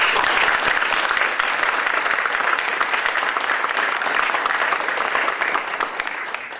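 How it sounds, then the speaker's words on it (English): A crowd at a library dedication ceremony gives a sustained round of applause, many hands clapping densely and evenly before it starts to thin near the end. "join me in a round of applause"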